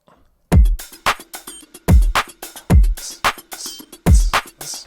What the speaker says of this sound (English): it had some offbeat hats kind of in the offbeats